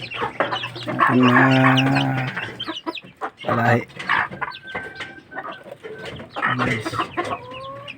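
Farm chickens cluck and cackle loudly and close by, with two roosters among them, overlapping continuously while someone speaks over the flock.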